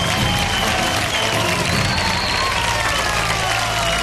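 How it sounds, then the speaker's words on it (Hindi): Loud, dense applause for Krish fills a large awards-show hall, steady and continuous with crowd noise and faint cheering mixed in. "जोरदार तालियां क्रिश के लिए।"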